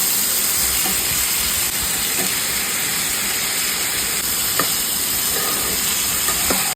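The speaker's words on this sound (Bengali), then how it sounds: "মা এখন রাতের জন্য আলু পেঁয়াজ ভাজা করছে।" Potatoes and onions fry in a pan for an evening meal, giving a steady, fairly loud sizzling hiss throughout with a few faint clicks and taps.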